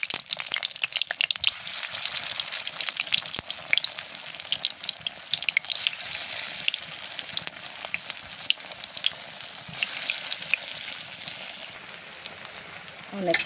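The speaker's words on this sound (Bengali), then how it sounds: "এখন আমি এক এক করে বড়াগুলো দিয়ে দিব।" Lentil fritters (bora) sizzle steadily in plenty of hot oil, a dense, continuous crackle with small pops throughout, close and fairly loud.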